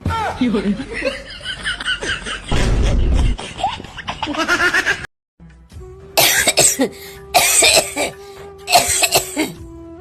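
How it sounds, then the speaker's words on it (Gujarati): Coughing from a person in a home while tea is being made, a few rough bursts mixed with laughter and talk, loud and close. "કેટલા દિવસ ત્યાં ઉધરસ આવે છે"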